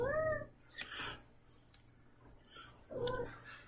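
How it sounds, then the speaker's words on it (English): A pet cat meows indoors, two or three distinct meows with rising and falling pitch, separated by quiet pauses, close to the microphone with no talking. "I got my cat up here, and he's telling me how to do the readings."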